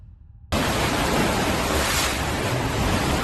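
Water sloshing in a rooftop pool in Bangkok, shaken by a magnitude 7.7 earthquake in Myanmar, comes across as a loud, steady rushing wash that starts abruptly after a brief quiet moment and continues without letup.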